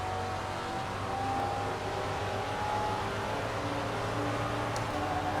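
Race car engine in Assetto Corsa's Red Pack, a steady high-pitched drone running continuously at constant loudness with no talk over it.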